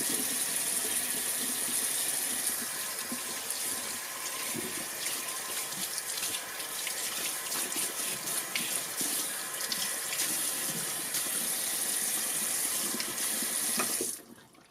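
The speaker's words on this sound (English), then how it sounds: "touching the faucet to turn the water on and off" Tap water runs steadily into a sink during a handwashing demonstration, a continuous close splashing gush that holds for most of the clip, then cuts off abruptly at the end when the faucet is turned off.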